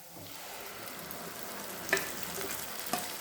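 Ground masala sizzles in hot oil for a Tamil garlic kulambu, a steady close frying crackle with two brief sharper scrapes of stirring.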